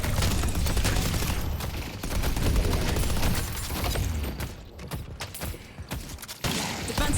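Video game turret gunfire, rapid bursts of shots and clattering mechanical effects in a busy, dense battle mix, loud and continuous with no voices over it.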